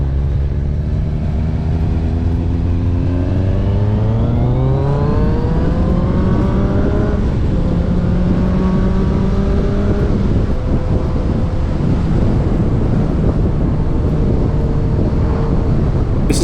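Kawasaki ZZR1200 motorcycle on country lanes, the engine note climbing and settling through gear changes, steady and close under constant wind rush.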